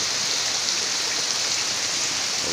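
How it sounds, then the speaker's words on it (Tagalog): Steady heavy rain pours down over an outdoor area, a dense unbroken hiss with no voices, loud and constant throughout. "Ayan, mahina na yung ulan"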